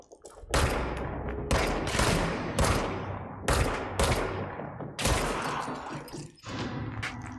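Enemy gunfire in the video game Control comes as a series of loud, sharp bursts spaced roughly a second apart, each with a booming low end and a short decaying tail, with no voices.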